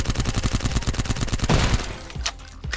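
Rapid SMG fire in a VR shooter video game, Silicon Rising, rattling in a fast, even stream of shots for about a second and a half before cutting off into a few scattered clicks and thuds.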